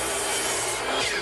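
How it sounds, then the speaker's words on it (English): Select pine boards are cut in half with a power saw, giving a loud, continuous rasping blade whine through the wood that rises slightly toward the end of the short cut. "I'm going to cut these pieces in half."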